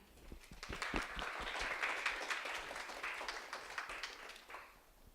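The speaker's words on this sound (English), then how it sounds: "So give round applause to Vineet Rai" An audience at a conference talk applauds the incoming speaker, Vineet Rai, with steady, fairly quiet clapping that swells and tapers, heard from a distance.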